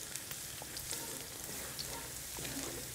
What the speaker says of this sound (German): das Ganze jetzt gut umrühren und in Bewegung halten